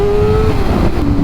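Motorcycle engine running through a cheap eBay aftermarket exhaust, a loud, close, sustained throaty roar with a steady drone that drifts slightly lower in pitch over about a second.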